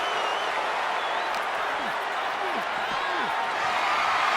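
Wrestling arena crowd at an Undertaker versus Ultimate Warrior match, a loud, steady roar of cheering filling the whole stretch, with scattered shouts and thumps rising from the mass of voices.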